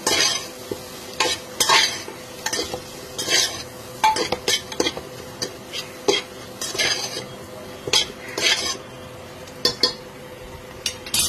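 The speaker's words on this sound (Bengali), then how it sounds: "আবার ফ্রাই করে নেব।" Daliya and vegetables fry in a pan while a metal spoon stirs them. Frequent sharp clinks and scrapes against the pan ring out over a steady sizzle for about eleven seconds, with no talking.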